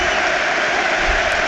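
A stadium crowd at a Liverpool versus Norwich City FA Cup match applauds a substituted Liverpool forward as he leaves the pitch. The applause is dense, steady and sustained, with no single voice standing out.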